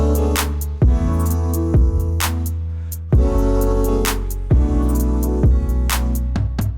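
Robotic vocoder vocal sings sustained, synthetic-sounding chords over a pulsing electronic beat, loud and upfront, with the phrases changing every second or so.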